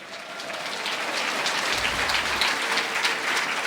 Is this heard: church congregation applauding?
yes